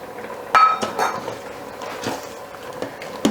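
Cauliflower tikka masala being stirred with soy yogurt in an Instant Pot, a spoon clanking and tapping against the pot in a few sharp knocks, close and clear, with no talking.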